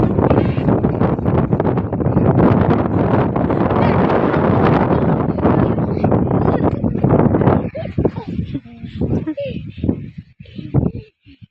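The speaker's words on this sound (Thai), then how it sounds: "ลมพัดแรงมาก" Strong wind roars across the microphone as a loud, continuous buffeting rush for most of the stretch, then drops away, leaving a few short bursts of voices talking.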